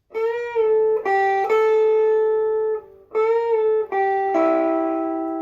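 Slow electric guitar lick, played alone: sustained single notes with slides and a bend, clean and close, ringing out over about five seconds.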